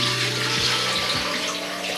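About eight cups of water gush steadily into a wok used as a saucepan, a loud, close, continuous pour with a rising hollow tone as the vessel fills, and no talking.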